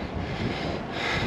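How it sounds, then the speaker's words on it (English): Wind buffets the microphone of a cyclist on a strong climb, a steady broadband rush that is loud and close and runs the whole moment without any talk. "Oh, this wind."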